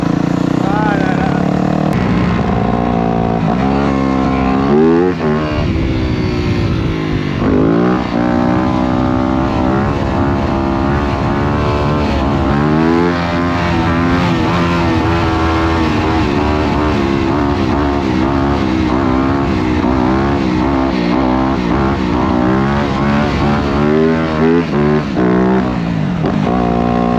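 A motorcycle is ridden on a Sunday group bike-life outing, with loud engine revving and rising and falling throttle bursts, and people talking over the riding.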